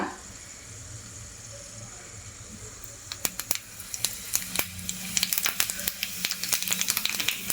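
Cumin seeds and split urad dal hit hot oil and start crackling, a quiet hiss that breaks after a few seconds into sharp, quickening pops and spits, close and without talk.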